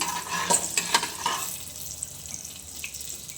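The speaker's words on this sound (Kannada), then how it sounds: "ಇದು ಚಿಟಪಟ ಅಂತ ಇದೆ ಜೀರಿಗೆ ಸಾಸಿವೆ ಎರಡೂ" Cumin and mustard seeds crackle in hot oil for a tempering, a dense close spatter for the first moments that thins to a few scattered pops, with no one speaking.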